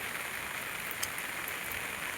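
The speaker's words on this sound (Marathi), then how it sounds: "पाऊस पण रिमझिम पडतोच आहे" Light monsoon drizzle patters steadily and evenly in the foggy Konkan hills, a soft continuous hiss with no voices.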